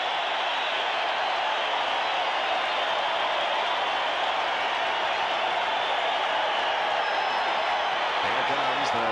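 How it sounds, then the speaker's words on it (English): A sellout crowd at Coors Field roars and cheers steadily throughout during a 1995 NL Division Series baseball game, a dense, sustained wash of voices with no break. "a sellout crowd on their feet here at Coors Field"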